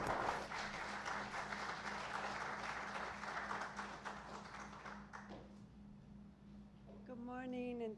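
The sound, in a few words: audience applause for the speaker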